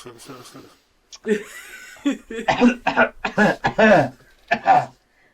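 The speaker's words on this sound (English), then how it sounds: "Cough, cough." Voices talking and chuckling, with a short cough-like burst mixed in among the speech near the start.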